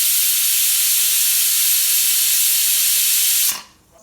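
An old pressure cooker cooking rice lets out a loud, steady hiss of steam from its whistle for several seconds, then cuts off abruptly.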